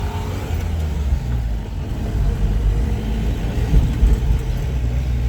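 A classic car's engine drones and rumbles steadily while it is driven through Dhaka, a close, continuous low growl that swells slightly as it pulls, with no voices.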